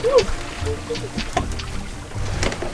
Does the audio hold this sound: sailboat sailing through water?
yes